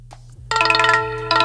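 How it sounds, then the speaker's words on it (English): A melodic ringtone plays loudly from an AGM X6 Phantom 5G smartphone through its dual speakers, with a short chime followed by a sustained tonal phrase that repeats, with no talking. "Let's take a look at the ringtones."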